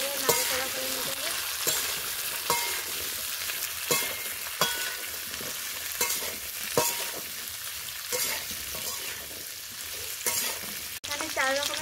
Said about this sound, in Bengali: এখানে 4 রকমের সবজি ভাজা হয়ে গেছে